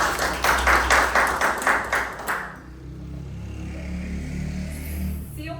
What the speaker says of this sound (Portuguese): Gente, uma salva de palmas pra Yara.